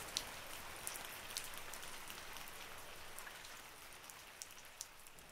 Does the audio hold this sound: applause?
no